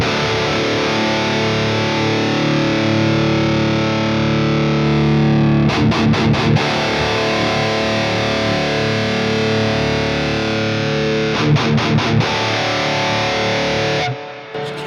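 Distorted electric guitar run through an amp modeler on a vintage cab setting, playing sustained chords with a few rhythmic choppy strums, loud and alone with no talk.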